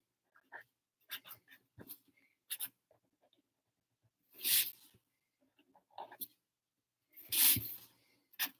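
Pen or marker scratching across paper while words are written onto line drawings, in short scattered strokes and taps with two longer, louder scrawls; close by and alone, with no talk.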